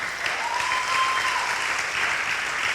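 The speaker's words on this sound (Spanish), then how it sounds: "¿Quién le da un aplauso al Señor en esta noche?" Church congregation applauding during an evening Spanish-language worship service, a continuous, even clapping that stays fairly loud across the whole stretch, with a faint sustained tone running faintly beneath.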